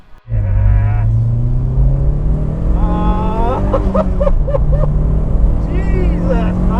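A turbocharged 244bhp Renault Kangoo van accelerating hard, the engine rising in pitch through the revs with whooshing turbo noise and gear changes, loud and close from inside, with voices speaking over it.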